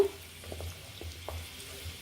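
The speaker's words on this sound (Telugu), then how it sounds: "ఉసిరికాయలు ఇలా కొంచెం కలుపుకుంటూ ఉండాలి మధ్య మధ్యలో" A spoon stirs Indian gooseberries (amla) frying in a pan over medium flame, giving a few soft scraping strokes over a quiet sizzle, close and brief, with no voices.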